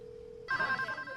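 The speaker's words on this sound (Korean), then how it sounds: "정말 우여곡절 끝에 팬텀의 식당에 전화를 걸게 되고" A telephone rings in a film scene at a restaurant, one short bright electronic ring starting abruptly after a low steady tone, fairly quiet and brief.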